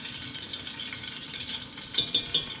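Honey hot chicken wings fry in oil in a pot with a soft, steady sizzle, and a few light clinks of the pot close out the moment.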